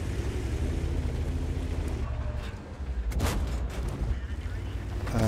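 Tank gun shots and artillery in the World of Tanks video game, heavy booming blasts with rumbling low end, one sharp loud impact mid-way and others around it, under a commentator's voice.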